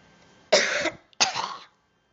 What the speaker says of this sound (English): I'm sorry if I cough a lot in this video. I'm awfully coughy.